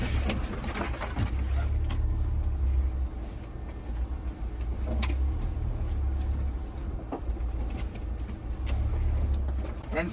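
A Mahindra Thar off-road vehicle drives along a steep, narrow hillside trail, its engine giving a steady, loud rumble throughout with bumps and knocks from the rough ground.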